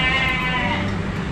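An Etawa crossbreed (PE) goat, a cross between a Jawarandu and an Etawa and weighing about 90 kg, gives a loud, near, continuous bleat over steady background noise.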